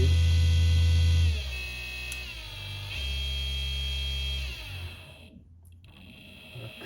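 An electric motor in a converted snowmobile whines at top speed as a loud steady hum, then drops in level and winds down in stages until it fades toward silence near the end.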